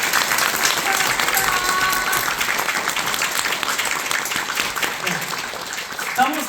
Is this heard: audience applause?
yes